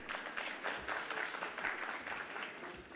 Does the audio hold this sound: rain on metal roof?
no